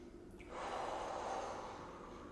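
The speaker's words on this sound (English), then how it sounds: "deep breaths" Deep breath drawn in during a full-body stretching session, a single soft, close airy inhale that swells and slowly fades, with no talking.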